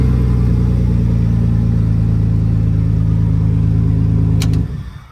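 A restored squarebody truck engine runs at a loud, steady, deep rumbling idle close by, then cuts off abruptly just before the end.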